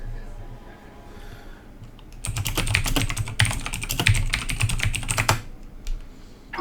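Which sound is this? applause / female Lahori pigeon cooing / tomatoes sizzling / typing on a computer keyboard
typing on a computer keyboard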